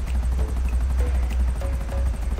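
Buzzard helicopter from GTA 5 Online landing, a steady loud rotor chop and engine drone with rapid rhythmic blade beats throughout, no talking.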